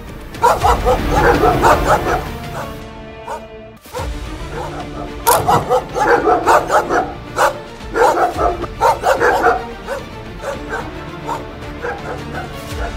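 Repeated dog barks and yips during a street dog attack on an elderly man in a Delhi lane, loud bursts in two clusters with a brief gap, over a noisy street background with some crowd sound.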